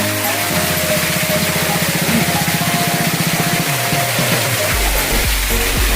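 A waterfall roars from inside its cave, a loud, steady rushing wash of water that fills the space without letup, with a lower rumble toward the end.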